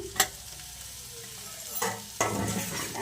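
Okra fry with tomatoes sizzles in a pan as a spatula stirs it, giving a few sharp scraping strokes over a low, steady crackle that swells louder near the end.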